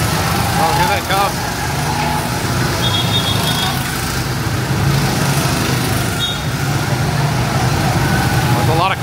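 Several go-karts drive around a go-kart course at Fun Spot in Florida, a steady loud engine drone close by, with voices talking over it throughout.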